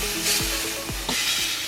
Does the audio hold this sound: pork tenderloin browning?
yes